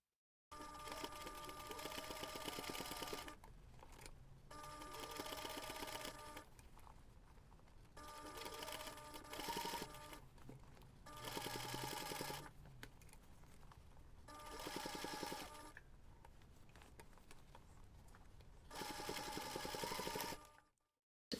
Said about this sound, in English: lay it on the bed of the machine and top stitch along the seam